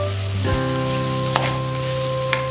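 Rice and lentils, including matar dal and moong dal, frying in oil for khichuri, a steady close sizzle with faint stirring scrapes, a hum-like tone in the background and a couple of brief clicks.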